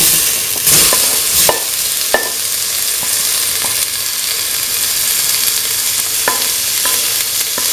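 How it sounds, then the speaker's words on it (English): Tomato pieces sizzle steadily in a hot pan for a mint omelette coconut milk stew, with a utensil scraping and stirring through them in a few distinct strokes over the constant frying hiss. "Put in the tomato pieces."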